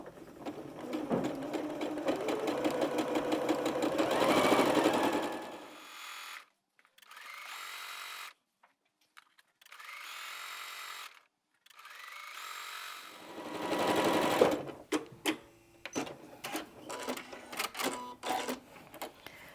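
Sewing machine stitching fabric strips together for a Creative Grids Tumbler Double Strip Ruler quilting project, whirring in loud steady runs that stop and restart several times, with short pauses and clicks between bursts.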